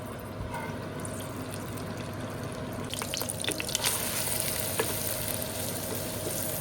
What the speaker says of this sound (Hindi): प्याज को हम ट्रांसलूसेंट होने तक भूनेंगे